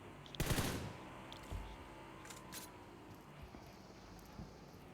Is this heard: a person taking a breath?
no